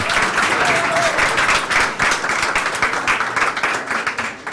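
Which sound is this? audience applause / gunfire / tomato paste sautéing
audience applause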